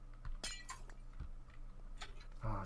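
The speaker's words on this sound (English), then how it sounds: "Just break a bit of glass here to get out." Glass block shattering in a Minecraft-style building game, heard as a few quick, bright clinks and crackles spread across the moment, fairly close and clear over a faint steady background.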